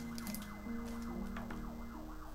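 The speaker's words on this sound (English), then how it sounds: "Ambulance." An ambulance siren wails in repeating rising and falling sweeps, heard at moderate distance over a steady indoor hum with a brief high alarm tone, and no one speaking.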